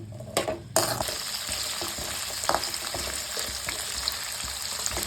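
Peanuts frying in hot oil in a pan for a small amla pickle, with a steady close crackling sizzle and occasional stirring scrapes throughout.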